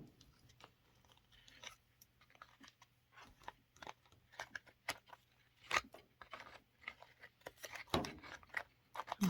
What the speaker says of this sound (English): I've cut around one side, go around the second side. I am using kitchen scissors.